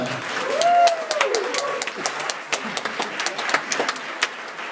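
An audience at a live concert applauds a performer, dense clapping swelling early then settling into scattered claps and crowd noise, with a brief vocal sound near the start.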